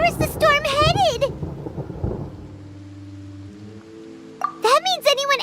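A thunderstorm from the Genshin Impact video game rumbles between stretches of character dialogue, with a low sustained roll of thunder and rain in the middle while voices speak before and after.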